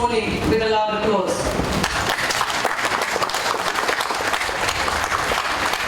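Loud, steady audience applause fills a hall welcoming the Prime Minister of Fiji at the opening of the 2015 Women's Expo, with dense continuous clapping from a large crowd after a brief spoken lead-in.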